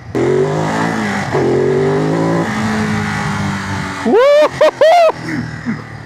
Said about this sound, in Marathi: एल ट्विन इंजिन असल्यामुळे बाईकचं एक्झॉस्ट नोट खरंच खूप कमाल वाटतो ऐकायला